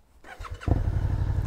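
Suzuki SV650 motorcycle starting with its one-press easy start system, a brief starter whir followed by the engine catching and settling into a loud, steady idle.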